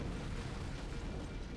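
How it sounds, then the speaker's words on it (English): A deep, rumbling explosion from an antimatter charge aboard a ship in a Halo CE mod, heard as a steady roar of low-end boom that fills the whole moment without a break. "I'd guess an antimatter charge."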